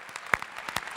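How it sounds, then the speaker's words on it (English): An audience at a business and society floor debate gives a brief round of applause for Lucien. It is faint and scattered, with a handful of sharper individual claps standing out over a soft patter. "So a round of applause for Lucien."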